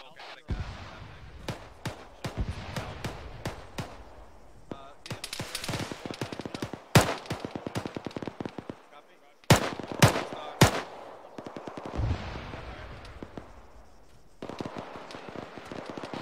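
Bursts of gunfire in ArmA 3, sharp cracks and rapid volleys scattered across the whole stretch, some loud and close, others more distant, with a few pauses between strings of shots.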